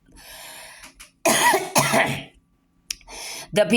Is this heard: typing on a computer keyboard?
no